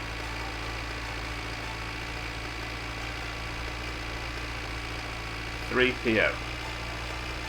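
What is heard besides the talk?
tractor engine running in video game My Winter Car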